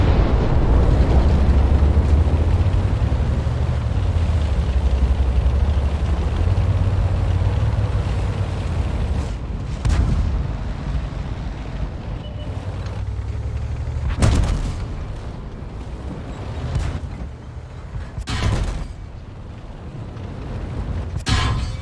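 Artillery strike explosions in World of Tanks: a heavy, rumbling barrage at first, then a string of separate sharp blasts and booms spaced a few seconds apart, loud and close.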